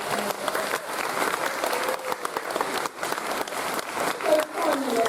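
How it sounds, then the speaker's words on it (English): Audience at a school open evening applauding the speakers: a sustained round of clapping from a crowd filling a hall, with a voice speaking over it near the end. "can we just give all our speakers a massive round of applause?"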